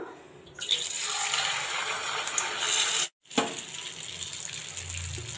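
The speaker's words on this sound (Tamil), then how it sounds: "அப்பளம் எடுத்து இதில் நல்லா டிப் பண்ணிக்கலாம் சூடாக்குற எண்ணெயில் இதை போட்டலாம்" Batter-dipped appalam frying in hot oil gives a steady, close, bubbling sizzle that breaks off for a moment midway, then resumes.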